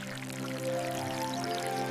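Water poured from a small container onto a freshly planted seed in a garden, a soft steady trickling pour with a faint tonal ring, quiet and alone for about two seconds.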